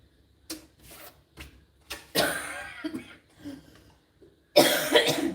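Several short, sharp coughs come close to the mic in a ragged series, with a harsher, louder burst near the end and quiet pauses between.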